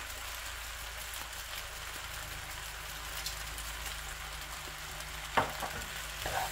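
A tomato and basil pasta sauce with melting cheese bubbles softly in a frying pan, giving a faint steady sizzle, then a spoon clinks against the pan near the end; no one speaks.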